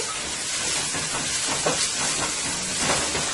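Garlic, onions and chili pepper sauté in hot oil, giving a steady, loud, broadband sizzling hiss that runs without pause and with no talk over it.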